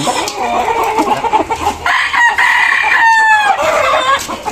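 A gamefowl stag crows close by, one long rising-and-falling crow after some nearby clucking and faint farmyard noise, loud and clear with no talking over it.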